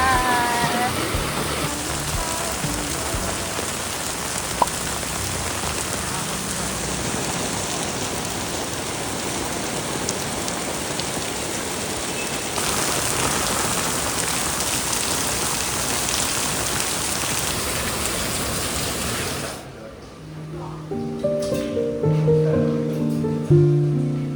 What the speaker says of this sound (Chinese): 这是一个下雨天暴雨游台南的状态